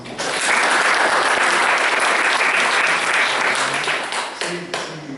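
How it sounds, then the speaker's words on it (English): Audience applause breaks out after a performance, a dense, loud wash of many hands clapping that holds steady for several seconds before thinning slightly toward the end, with faint voices underneath. "Would you like to first of all give him an applause?"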